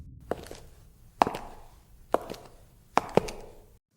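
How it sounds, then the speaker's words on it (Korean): Footstep sound effect in a Korean horror radio story, a handful of distinct thudding steps at an uneven pace, fairly close and clear with no talk over them. "발소리가 안방에서 들려왔습니다"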